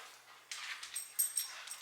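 A puppy whimpers faintly in short, high yips and whines, several soft bursts close by in a quiet room.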